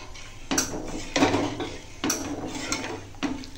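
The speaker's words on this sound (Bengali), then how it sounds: "এখন ডাল শুকনো খোলায় নাড়া হচ্ছে" Mung dal is stirred in a dry pan, with four or five short bursts of gritty scraping and clatter against the metal, close and fairly quiet.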